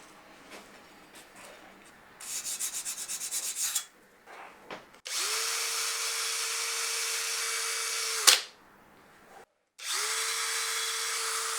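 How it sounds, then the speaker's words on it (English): A cordless drill spins a wire brush against a rusty old wood plane in several bursts, a loud whirring scrape with a motor whine, separated by short pauses. "shining with a wire brush on my cordless drill"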